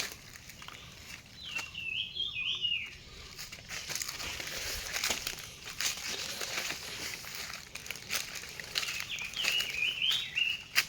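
Birds calling in dense forest: a few high warbling phrases at moderate distance, near the start and again near the end, over crunching footsteps on dry leaves and rustling undergrowth, with no talk.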